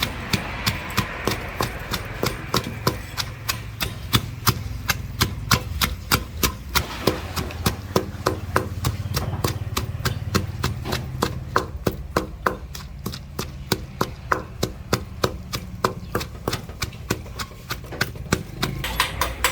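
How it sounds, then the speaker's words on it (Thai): Steady, rhythmic pounding of a pestle in a mortar crushing chilies for chili paste, with close, regular thuds repeating throughout at an even pace. "เวลาตำก็ค่อยบี้ ๆ นะครับ"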